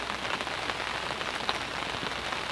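Steady rain falls during a tench fishing session, a dense, even patter of drops on surfaces close by with no talk over it.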